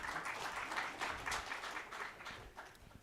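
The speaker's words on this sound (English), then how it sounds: "A round of applause" Audience at a sanitation governance conference gives the panel a round of applause, moderate clapping from a crowd that holds steady and then tapers off softly toward the end.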